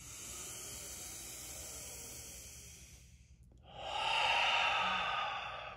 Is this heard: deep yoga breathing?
yes